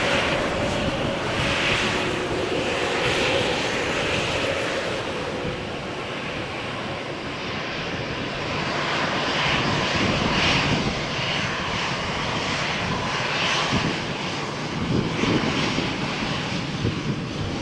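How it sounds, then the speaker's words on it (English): Airbus A321-271NX jet at Malaga Airport on a stormy morning, a broad continuous engine roar with wind, loud and sustained throughout, no voices. "this is a A321 271NX"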